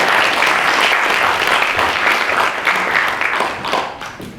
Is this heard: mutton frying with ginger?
no